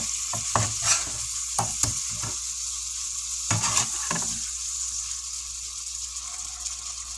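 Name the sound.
burgers frying and sizzling in sauce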